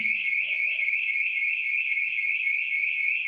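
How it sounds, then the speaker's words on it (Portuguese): An alarm goes off indoors, a steady continuous electronic tone holding at one pitch throughout, loud and unbroken with no voices. "Foi um alarme que disparou aqui"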